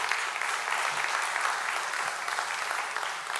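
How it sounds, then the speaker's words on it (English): A school meeting audience gives sustained applause, a steady dense wash of many hands clapping at moderate distance, continuous for a few seconds without talk. "I want to just give you guys a big round of applause"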